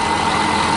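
Old 1959 Caterpillar diesel generator engine running under load, a brief steady drone with a constant mid-pitched hum, loud and close.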